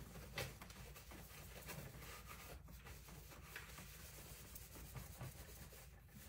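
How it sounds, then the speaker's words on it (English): Cloth buffing the glossy ceramic-like finish on an upcycled wooden knife block, a soft continuous rubbing hiss with faint repeated strokes, very quiet and close. "And you buff it out."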